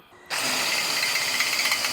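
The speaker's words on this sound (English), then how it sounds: "So let's mark it and drill it." Power drill boring a hole to mount a tractor canopy, starting abruptly and running as a steady, loud whirring grind for under two seconds before cutting off sharply.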